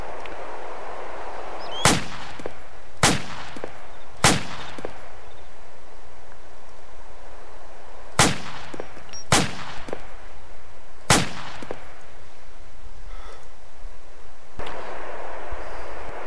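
Six spaced single shots from an M16 rifle in ARMA 2, each a loud, sharp crack with a short echo, fired at an irregular pace over a steady outdoor ambience.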